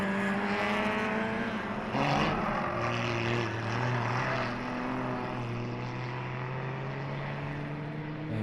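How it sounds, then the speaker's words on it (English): A Porsche 928 race car at the Jarama Classic circuit, its engine droning steadily and loudly as it runs downhill on the track, sustained at a distance with no gaps. "There goes the 928 Porsche, a little bit shaky there, coming down the hill."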